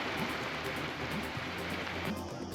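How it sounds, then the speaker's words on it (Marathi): Heavy rain pours steadily over Mumbai and its suburbs during a monsoon downpour, a dense continuous hiss with no pauses, at moderate loudness. "मुंबई आणि उपनगरातही मुसळधार पाऊस सुरू आहे."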